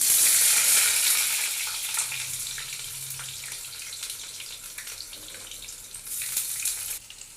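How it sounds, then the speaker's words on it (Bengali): Eggplant pieces fry in hot oil for a Bengali fish-and-vegetable dish, giving a loud, dense sizzle at first that eases to a steady, softer crackle before swelling again near the end. "এই বেগুনটাকে আমি আগে তেলে দিয়ে ভেজে নেব তেলটাও গরম হয়ে গেছে"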